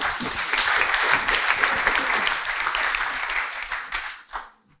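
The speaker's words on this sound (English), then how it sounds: "So a big round of applause." An audience at a FinTech North conference session in Newcastle applauds steadily and loudly, the clapping holding for about four seconds before tapering off and dying away at the end.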